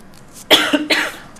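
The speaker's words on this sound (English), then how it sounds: "I just coughed right into his mic" A person coughs right into a microphone, two loud, close bursts about half a second apart in an otherwise quiet room.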